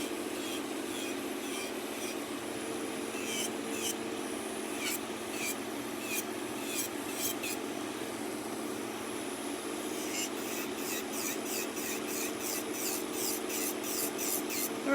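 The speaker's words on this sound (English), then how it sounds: "My nail drill bit is from Young Nails. It's an X-cut drill bit," Nail drill fitted with a medium X-cut bit from Young Nails filing sculpted nails, a steady close whirring hum with brief scratchy rasps as the bit touches the nail, continuous throughout with no talk.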